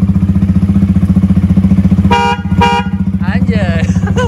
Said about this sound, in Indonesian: Dan untuk klakson kita coba ya.